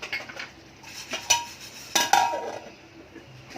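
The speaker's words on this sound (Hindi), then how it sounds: "अब उसको ढक के रखेंगे" A pot of broken wheat halwa gets covered with its lid, producing several sharp metallic clanks and clinks close by, separated by quiet pauses.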